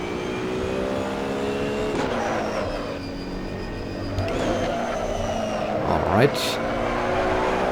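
A GT1 race car engine in the Assetto Corsa racing game drones and climbs through the gears, pitch rising then dropping at shifts, with a sharp rev surge near the end while someone briefly speaks over it.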